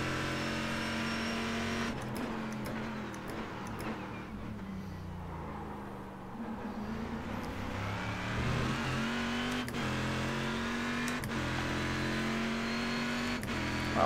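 A Corvette C6R GT1 race car in iRacing pulls hard in third gear at Sebring, its engine a loud continuous roar that dips briefly then climbs steadily in pitch, with a few clicks along the way.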